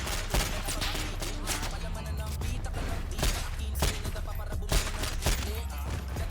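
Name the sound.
gunfire, repeated shooting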